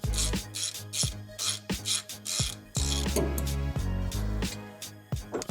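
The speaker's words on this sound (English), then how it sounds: "take out the other Torx bolt, your T45" A ratchet wrench works a T45 Torx bolt out of a Harley-Davidson Touring engine guard with rhythmic rasping clicks, repeated back-and-forth strokes roughly every half second, close and fairly loud.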